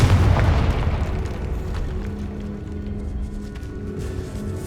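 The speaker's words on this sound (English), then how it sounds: "Confringo" Confringo explosion spell in Hogwarts Legacy, a loud booming blast with a deep rumble that slowly fades over several seconds inside a catacomb.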